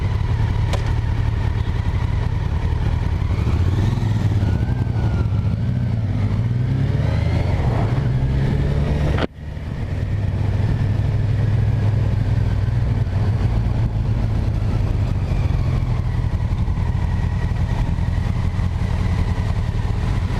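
A Kawasaki Versys 1000 LT SE motorcycle being ridden, its engine droning steadily and loud throughout with shifting pitch, a brief dropout midway, then the same steady engine note resuming.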